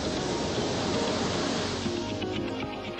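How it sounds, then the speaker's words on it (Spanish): Sea waves wash onto a beach on the Malvinas (Falkland) Islands in a dense, steady roar of surf, loud and continuous with no voices. "el sonido del mar"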